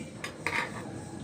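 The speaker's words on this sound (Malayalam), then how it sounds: "ആദ്യം ചോറിടുകയാണ്." Cooked rice being served into a lunch box, with two short scraping clinks of a serving spoon against the container, close and soft.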